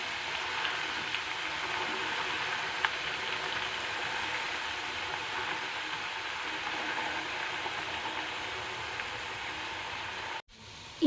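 Steady, soft sizzling of herbal paste frying in hot coconut oil, continuous and even throughout, ending with a brief dropout and a small clatter.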